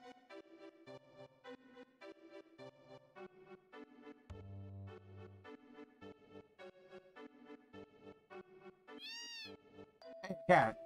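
A cat meows in Final Fantasy VII amid looping game music, a short tonal call standing out near the end over the steady soundtrack.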